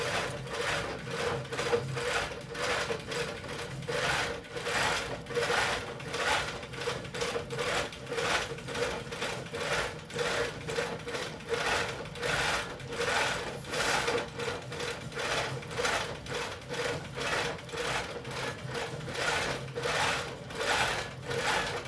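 A Pro Stitcher longarm quilting machine stitches a pattern on a round Christmas tree skirt, giving a steady, rapid mechanical rattle of needle strokes that continues close and loud without a break and with no talk.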